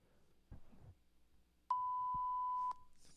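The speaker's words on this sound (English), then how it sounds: "just hit me with a beep and I'll just put it over." A single pure censor beep tone sounds for about a second, sharp and loud against quiet, faint background rustles and thumps before it.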